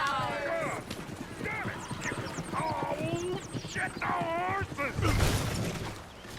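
Video game horses (Red Dead Redemption 2) clip-clop amid neighing and overlapping voices, with a brief loud burst near the end.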